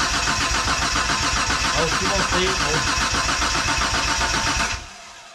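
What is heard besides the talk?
1992 Dodge Stealth R/T twin turbo engine cranking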